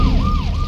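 Wailing ambulance siren from the video game Grand Theft Auto III, rising and falling in a steady sweep over a dense rumble of engine and street noise, loud and close.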